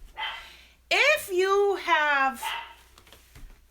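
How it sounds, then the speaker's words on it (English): A chihuahua barks in a few sharp, high yips and a whining bark close by indoors, while someone talks over and between the barks. "so excuse the barking chihuahua."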